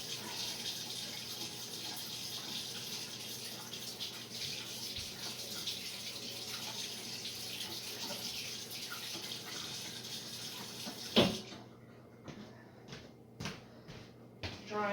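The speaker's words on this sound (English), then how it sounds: "I want to wash my hands again and take my ring off." Tap water running steadily as hands are washed at a sink, a close continuous splashing gush that stops near the end, followed by a few handling knocks and clatters.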